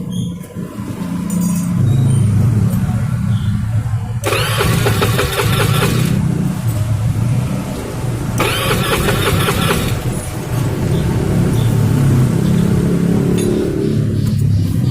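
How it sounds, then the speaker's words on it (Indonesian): A car engine is cranked by its repaired starter motor, catches and idles, with two bursts of bright starter whine and revving over a steady close engine hum. "sekarang kita tes apakah starternya sudah nyala atau belum."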